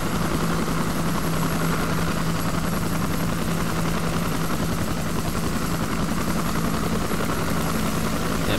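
A military helicopter flies in the ARMA 2 Vietnam mod video game, its rotor thudding loud and steady for the whole stretch with a constant engine whine and no pauses.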